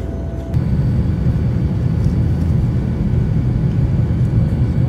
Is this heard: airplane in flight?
yes